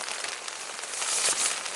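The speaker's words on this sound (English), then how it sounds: "There's nothing else to do with this rain." Rain falls steadily on a campsite during an overnight river trip in bad weather, a dense, hissing patter with faint crackles of drops striking a surface, close and constant, swelling slightly midway, no voices.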